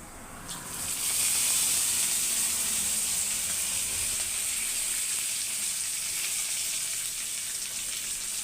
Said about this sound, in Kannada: ಈಗ ಕರಿಬೇವು ಹಾಕ್ತೀನಿ.